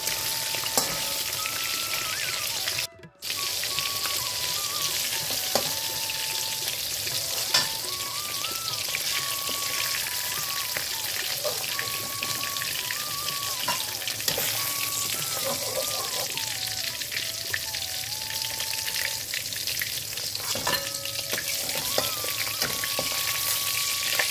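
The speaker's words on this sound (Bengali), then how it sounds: "আমি একটু মিডিয়াম করে ভেজে নেব, না কড়া না হালকা, একটু মিডিয়াম করে ভেজে নেব এটাকে।" Katla fish frying in oil in a Bengali kitchen, a dense continuous sizzle and crackle held for a long stretch, close and steady, with a faint melodic tone running underneath and a brief dropout near the start.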